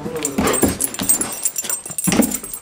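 Dancing dogs whimper and yip close by in an excited, uneven flurry of short cries and whines that continues throughout.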